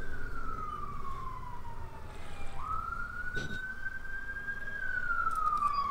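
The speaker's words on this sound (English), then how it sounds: "Thank you, police car, for driving past at that very time." A police car siren wails as the vehicle drives past, the tone sliding down then rising again in a clear, fairly close sweep over steady background noise, with no talking.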